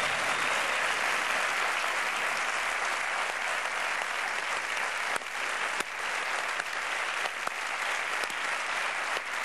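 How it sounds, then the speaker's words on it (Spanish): Applause from a crowd, a sustained, dense wash of many hands clapping that stays steady and fairly loud, with a few sharper individual claps standing out along the way. "Es un aplauso como"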